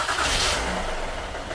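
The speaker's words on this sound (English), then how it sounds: "now I'm going to start the car" A 2012 Honda Odyssey's engine catching after a battery change, a brief burst of starter and ignition noise that settles into a steady, moderately loud running hum.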